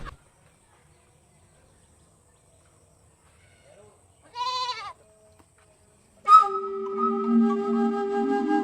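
Goat bleating in a village yard, one short bleat after near silence followed by a longer, louder wavering bleat close by.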